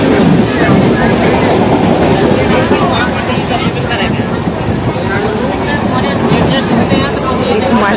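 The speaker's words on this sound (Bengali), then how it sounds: "আমাদের ট্রেন ছেড়ে দিয়েছে" A moving passenger train heard from inside a carriage makes a loud, constant rumble and rattle that fills the whole stretch without letting up.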